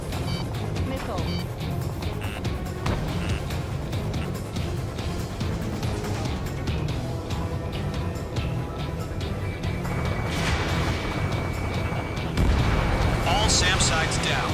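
Missile launches and explosions in the Ace Combat 7 video game, a steady rumble of jet noise with scattered blasts and a heavier boom near the end, mostly under radio chatter.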